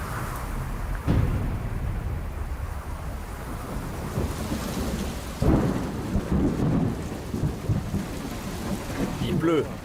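A thunderstorm with steady rain falling outdoors, with loud thunder claps near the start and middle and a continuous hiss of rain throughout.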